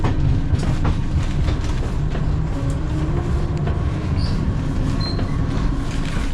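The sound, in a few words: train moving, heard from inside the carriage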